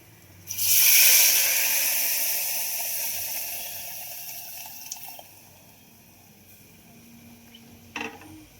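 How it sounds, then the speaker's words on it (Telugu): Sambar poured into a hot tempering of mustard seeds, cumin, curry leaves, onion, crushed garlic and dried chilli, a sudden loud hiss that swells then slowly fades into a gentle sizzle, with a brief clink near the end. "ఇప్పుడైతే సాంబార్ వేసేసుకుందాం"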